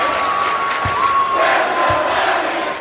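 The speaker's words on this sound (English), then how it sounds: "the Oregon home crowd didn't make it easy on him" Oregon home crowd at a college basketball game, a loud sustained roar of cheering and shouting with whistles, filling the arena steadily throughout.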